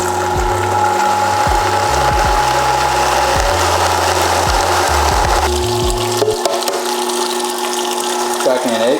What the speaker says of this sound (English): We're gonna blend, low speed